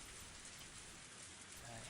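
Steady rain falling in the visual novel Higurashi When They Cry, a dense, even hiss of drops on surfaces continuing without a break, fairly soft and alone.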